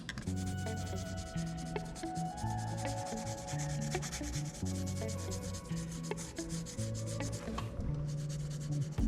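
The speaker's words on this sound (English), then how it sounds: "first thing we're going to wet sand is the hood" Wet sanding by hand on the hood of an AMT 1/25 scale 2017 Camaro Fifty model kit: a steady, continuous scrubbing rub heard throughout, partly under loud background music with sustained tonal notes.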